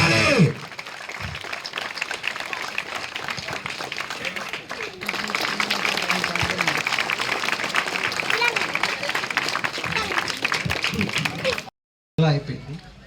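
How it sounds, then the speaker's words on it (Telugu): An audience at a felicitation event tied to a volleyball tournament and medical camp breaks into sustained applause, a dense wash of clapping lasting several seconds before cutting off abruptly, with a voice speaking over it. "అందరూ చప్పట్లు కొట్టాలి."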